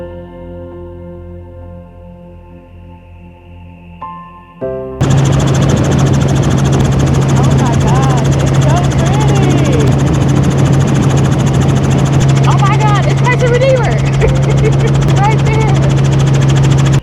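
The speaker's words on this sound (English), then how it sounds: "once I got in the helicopter and got kind of comfortable in the air" Helicopter in flight over Rio de Janeiro, a loud steady engine and rotor drone with strong low hum that kicks in abruptly after a few seconds of quieter sound, with faint voices now and then.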